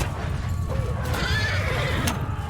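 Horses in the game Mount and Blade II Bannerlord neigh and whinny over steady clip-clopping hooves, a close, continuous mix with battle ambience beneath and no talk.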